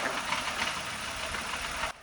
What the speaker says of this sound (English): Hope you heard that misfiring sound from the tailpipe